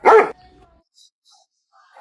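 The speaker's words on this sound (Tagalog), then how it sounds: "Tara siyang aso na kumakahol." A dog gives two short, sharp barks, one at the start and another at the very end, with near silence between them.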